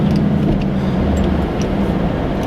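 A supercharged 2008 Magnuson Pontiac G8 on a test drive makes a steady, loud low engine drone heard from inside the cabin, continuous and even throughout, with no one talking.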